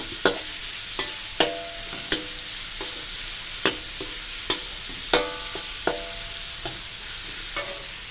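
Pork with pickled bamboo shoots, chili and salt is stir-fried in a pan, where a spatula strikes and scrapes in a regular beat about once a second over a continuous sizzle.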